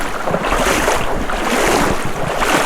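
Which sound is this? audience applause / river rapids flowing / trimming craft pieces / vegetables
river rapids flowing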